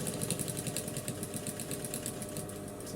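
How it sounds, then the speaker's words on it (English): A sewing machine top stitching along the edge of an inseam pocket, a fast steady needle chatter running close and continuous at moderate volume. "I will top stitch just closely like this on the pocket"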